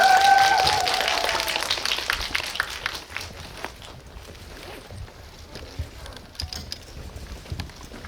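Applause from a cinema audience at a Whiplash film talk event starts loud and full, then gradually softens into thinner, scattered clapping over several seconds.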